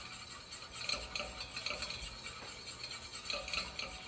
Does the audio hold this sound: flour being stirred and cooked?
yes